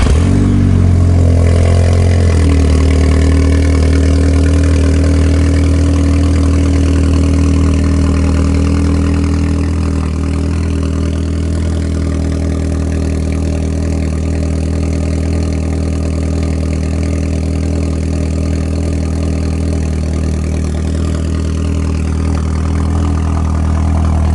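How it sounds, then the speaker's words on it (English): Mk6 Volkswagen Golf R engine cold-starting, with a brief loud crank and flare at the start, then settling into a steady, close, droning idle with deep low rumble that holds for the rest of the stretch. "The Golf I haven't driven today, so that's going to be a cold start. So I'll start that up and let you listen."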